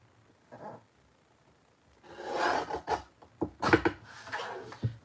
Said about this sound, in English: Now I need to cut down a card front, so I'm going to cut that down to 3 1/4.